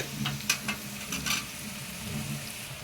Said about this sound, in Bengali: পেঁয়াজগুলোকে একটু হালকা রাঙা রাঙা করে ভেজে নেব